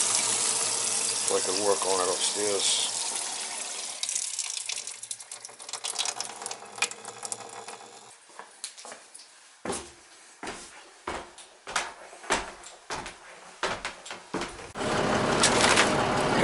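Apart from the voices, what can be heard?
water running from basement sink tap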